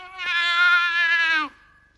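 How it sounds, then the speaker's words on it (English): An artificial, synthesized cat sound plays during a movie's opening credits: a single drawn-out, tonal meow of about a second and a half, clear and loud against near silence, ending in a brief falling tail. "they have the strangest fake cat sound that I've ever heard"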